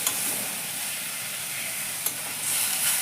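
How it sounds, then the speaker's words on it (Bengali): Spice paste of chilli powder, turmeric and ginger paste sizzles and hisses in a pan for potol telani as water is added, a steady close frying noise that swells toward the end, with a faint tap of stirring. "এবার আমি মশলাটাকে একটু একটু করে জল দেব আর একটু করে কষবো।"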